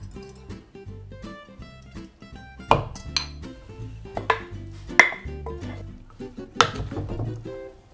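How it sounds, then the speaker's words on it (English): A spoon clanks and scrapes around a bowl while mixing a black bean and grilled corn salad, with irregular clinks and knocks, a few sharper taps standing out, close and without talk. "Just kind of mix this all around. Because I wanna break the corn up."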